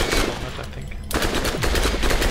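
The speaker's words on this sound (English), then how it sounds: "my SMG does quite a lot of damage, actually" Rapid bursts of submachine gun fire in the video game Borderlands, loud and close, with a short pause before the firing resumes in a dense rattling stream.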